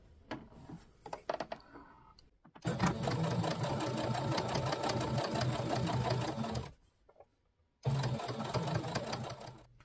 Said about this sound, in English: I bump up my stitch length a couple lengths, and I use the needle down position to sew this